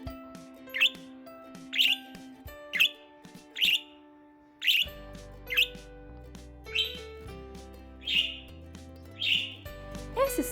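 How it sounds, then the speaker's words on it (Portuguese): A pet budgerigar gives sharp repeated chirps and contact calls, about one per second, loud and close over warbling chatter and a low background drone, with no people talking. "Quando o periquito escuta outro pássaro a uma certa distância, ele pode começar a fazer esse som para tentar se comunicar com esse passarinho"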